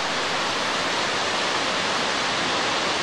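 Water pours over a narrow dam at Band-e Amir lake in Bamyan, a loud, steady, broadband rush with no pauses or voices.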